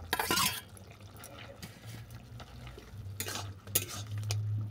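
A spoon stirs a potato, eggplant and bori curry in a pan, bringing soft scraping and wet, muffled stirring with a faint low sizzle, close up and quiet, with brief louder bursts of movement.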